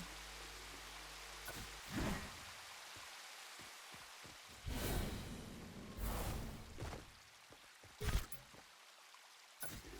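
Waterfall spilling into a stream in Fortnite Creative, heard as a steady broadband water rush with several louder surging bursts and brief splashy spikes, no voices over it.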